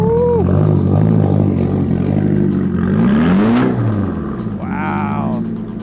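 A lowered Nissan S15 Silvia sports car revs hard nearby, its engine note sweeping up and falling back in a loud burst, with voices talking over it.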